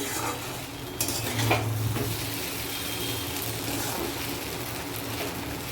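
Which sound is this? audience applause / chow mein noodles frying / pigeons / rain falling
chow mein noodles frying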